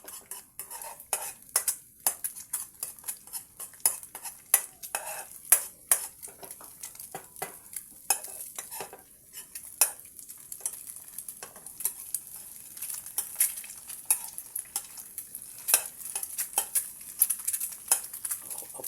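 Eggs are beaten briskly in a bowl and cooked in a pan: rapid irregular clicks and taps of a utensil with a soft sizzle beneath, close and fairly quiet, without talking.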